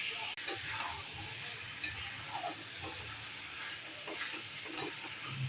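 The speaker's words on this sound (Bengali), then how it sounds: "চিকেনগুলোকে কষিয়ে নিতে হবে" Chicken pieces frying with spice paste and whole garam masala in oil for biryani, a steady soft sizzle with occasional sharp ticks of stirring against the pot.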